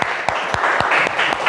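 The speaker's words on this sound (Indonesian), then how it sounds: "Tepuk tangan." Pupils in a fifth-grade Quran recitation class applaud, a close burst of rapid clapping punctuated by several sharp, distinct individual claps over a steady patter of many hands.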